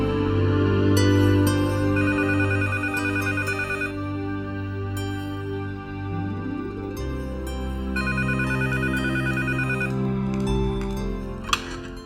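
A telephone ringtone plays loudly and steadily as a call is placed, a repeating melodic chime pattern that cycles for about twelve seconds with no voices over it.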